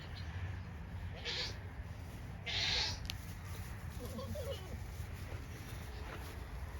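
Goats on a goat farm, with two short bleats from kids or adults rising over a quiet outdoor background, the second louder and longer.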